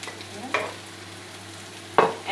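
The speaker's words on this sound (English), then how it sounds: "I'm going to put all my veggies in my wok." Vegetables hit a hot wok with garlic for sweet and sour pork, giving a steady close sizzle broken by two sharp scraping stirs of the spatula against the metal, with no talking.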